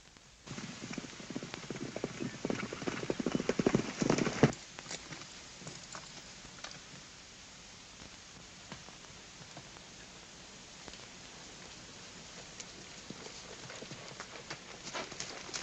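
A white horse's hooves clip-clopping in a 1937 western, louder and quicker in the first few seconds and then softer and more distant over a faint hiss, with no talking.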